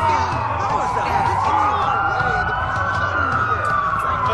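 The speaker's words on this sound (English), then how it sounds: "That's a lot of sirens for a blackout." Several wailing police sirens in a video game overlap continuously, loud and close, their pitches sweeping up and down together.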